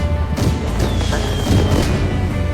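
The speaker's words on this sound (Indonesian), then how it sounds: "perhatian Valentina malah teralihkan oleh keindahan kembang api" Loud booming bursts of fireworks crackle and thud one after another in a dense, continuous barrage.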